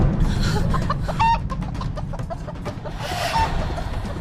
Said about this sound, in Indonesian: malam-malam ada ayam berkokok sih?